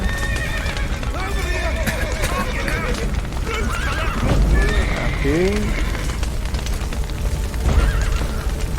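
Horses neighing and whinnying in the video game The Witcher 3, several calls over a dense, loud game soundscape with hoofbeats and rumbling.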